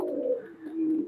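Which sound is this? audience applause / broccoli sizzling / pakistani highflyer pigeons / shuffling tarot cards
pakistani highflyer pigeons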